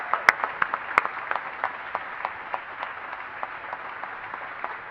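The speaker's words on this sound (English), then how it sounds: "I hope you agree that they deserve a round of applause" An audience at a youth character awards ceremony gives a round of light, scattered applause, steady and moderately quiet, with a few sharper individual claps near the start before it settles and slowly thins out.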